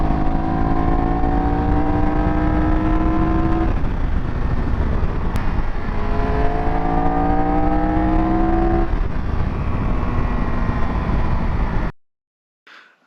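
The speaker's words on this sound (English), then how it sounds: "And just listen to the engine." A 2022 Triumph Tiger 1200 Rally Explorer motorcycle engine revs hard and climbs through the gears in rising sweeps, loud and close, for about twelve seconds before cutting off abruptly. No one talks.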